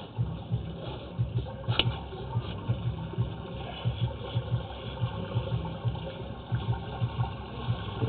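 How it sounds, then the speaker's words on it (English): Running water flushed through a drain line during a camera pipe inspection, a steady rushing flow with rhythmic low pulses and gurgles, continuous and fairly close. "Go ahead and turn off the water."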